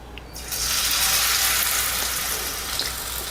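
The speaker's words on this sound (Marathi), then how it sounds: "आपल्याला शॅलो फ्राय करून घ्यायचे आहेत" Potatoes dipped in slurry shallow frying in hot oil give a steady, close, broadband sizzle that swells loudly after a quieter first half-second and holds without pause, with no voices.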